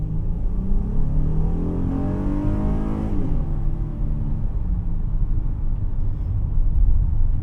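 A 2019 Honda Odyssey minivan accelerates with a steady, loud engine drone and road rumble, rising harmonic sweeps as it revs up and shifts gears, continuous throughout.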